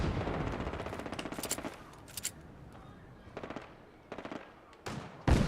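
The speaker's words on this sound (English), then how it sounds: "There's a lot of machine gun fire." Machine gun fire in Fallout 4 rattles out in several rapid bursts separated by short pauses, some loud and close, others lighter and more distant.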